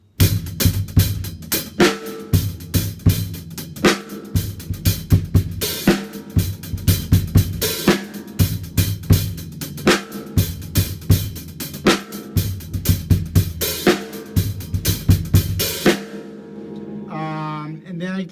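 A drum kit plays a swing-style groove of hand and bass-drum patterns, each played twice, with steady repeated hits and cymbal wash for about sixteen seconds, then it stops and a voice speaks briefly.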